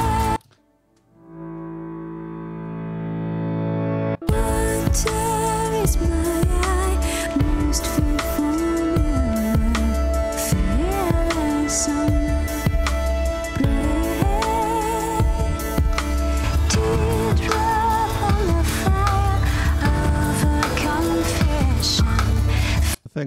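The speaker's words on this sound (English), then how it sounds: "listen out for that reverse piano" A swelling reversed piano from a song builds up alone for a few seconds, then a full, busy music track with bass and drums kicks in and continues.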